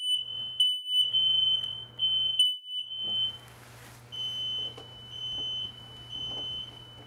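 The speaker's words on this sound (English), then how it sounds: "in here actually is a smoke detector that I can reach easily" Hardwired motor home smoke detectors shriek during a test, a piercing electronic tone pulsing in loud repeated bursts, then continuing in steadier intervals as linked alarms sound together nearby.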